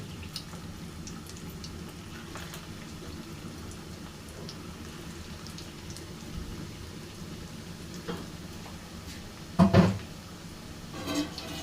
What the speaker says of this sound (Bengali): কাবকগুলি এখন আমি কিছুটা গরম হলেই দিয়ে দিব এভাবে মিডিয়াম আছে সুন্দর করে ভেজে নেব